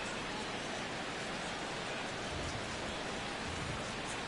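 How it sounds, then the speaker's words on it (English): Steady, even rain hiss pouring down over a baseball stadium in MLB The Show 16, a continuous broadband wash with no other distinct sounds. "as the rain continues to fall here"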